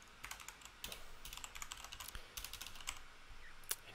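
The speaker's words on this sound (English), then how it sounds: "So we type in the password" Keys on a computer keyboard clatter as a password is typed at a Windows Server 2019 login, a quick run of close, crisp clicks with brief pauses between them and no voice over it.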